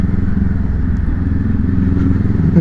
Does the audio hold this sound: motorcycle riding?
yes